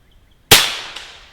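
An FX Impact M3 air rifle fires, a single sharp, loud crack with a short decaying tail and a faint tap of the pellet striking the target just after.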